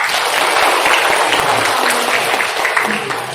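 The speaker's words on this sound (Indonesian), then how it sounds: "Tepuk tangan ya." Audience applause at a personality training seminar, steady broadband clapping from a room of listeners lasting several seconds at fairly even loudness, with some voices mixed in.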